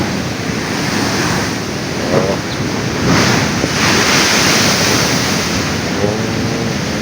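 Stormy sea surf roars steadily up close, with surging waves and strong wind noise battering the microphone, loud and unbroken.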